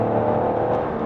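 A Peugeot 3008 with a 1.2 gasoline engine in sport mode plays its virtual engine sound as it drives, a steady, fairly loud, smooth hum heard from inside the cabin.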